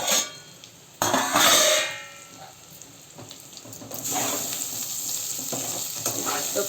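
Bitter gourd pieces frying with chili powder in a pan, a steady sizzle with a louder burst early on and a brief clatter, heard close with no talk.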